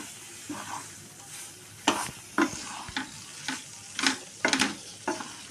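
Potatoes and pointed gourd frying in hot oil with spices for a korma, a soft continuous sizzle punctuated by about eight sharp stirring scrapes, close but fairly quiet, with no talking.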